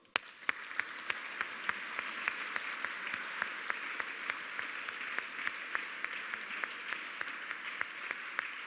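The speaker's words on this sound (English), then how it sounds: "so let's give them an applause." Applause for hospitality and service staff at a conference farewell banquet, a quiet room of people clapping steadily throughout with a few sharp individual claps standing out above the rest.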